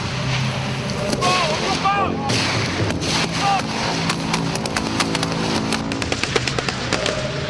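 Gunfire from a French Foreign Legion assault exercise crackles as a string of sharp reports, some close and loud, others scattered and distant, with voices shouting over steady background noise.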